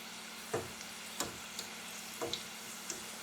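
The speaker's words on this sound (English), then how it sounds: "But you can still hear it making a sizzling sound." Trimmed Brussels sprout ends frying in a pan give off a quiet, steady sizzle, broken by several sharp pops and crackles spaced irregularly through the few seconds.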